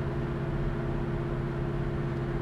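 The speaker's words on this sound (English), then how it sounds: "Car idles nicely." A 1965 Ford Mustang engine idles smoothly and steadily, a low even hum held close by with no revving or other sounds.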